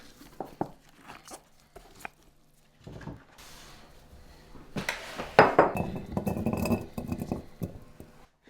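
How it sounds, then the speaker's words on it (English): Vegetables drop into glass pickling jars with scattered clinks and knocks, building to a denser stretch of rattling and glassy clatter toward the end. "Just going to throw them all inside the jar."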